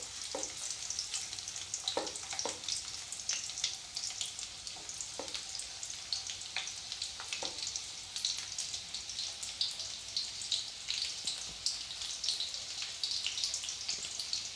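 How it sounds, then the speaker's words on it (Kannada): Crushed garlic frying in hot oil in a pan gives a steady, close sizzle throughout, with a few light clicks from stirring and no voices. "ಈ ರೀತಿ ಕುಟ್ಟಿ ಇಟ್ಕೊಂಡಿರೋ ಬೆಳ್ಳುಳ್ಳಿನ ಎಣ್ಣೆ ಒಳಗೆ ಹಾಕೋನು. ಬೆಳ್ಳುಳ್ಳಿನ ಒಂದು ಸ್ವಲ್ಪ ಫ್ರೈ ಮಾಡ್ಕೊಳ್ಳೋಣ."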